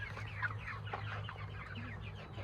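Chickens cluck and chatter in a busy, continuous stream over a steady low hum, several birds close by with no one speaking.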